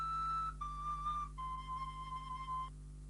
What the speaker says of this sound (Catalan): És com una mena de xiulet. És la flauta de Paris.